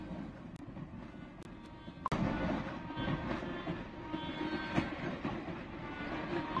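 A holiday express train in the video game Cookie Run: Kingdom rumbles along steadily, with rhythmic clattering over the rails and an occasional sharp clank, heard up close and without voices.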